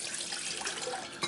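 Water from a tap pours into a cooking pot for rice in a home kitchen, a steady splashing rush with a small surge near the end, no voices.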